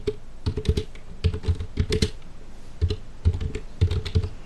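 A computer keyboard is struck hard in bursts of fast, loud, close clacking keystrokes, with brief pauses between the runs and no voices.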